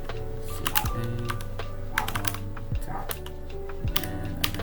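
Fingers typing on a computer keyboard, with quick clusters of sharp key clicks and short pauses over a steady low background hum.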